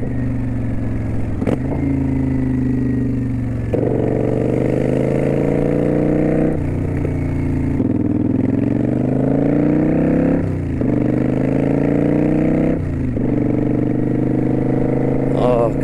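A Kawasaki Vulcan 900 Custom Special Edition motorcycle being ridden, its deep, steady engine drone close and loud, rising and dropping in pitch with several gear changes.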